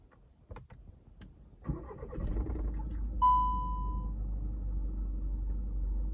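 Skoda Octavia 1.6 TDI diesel engine cranks and catches after timing belt, water pump and alternator belt replacement, then settles into a steady, loud idle with a brief high whine as it fires.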